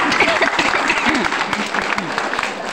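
A church congregation breaks into brisk clapping, a short, lively burst of many hands with voices chattering underneath.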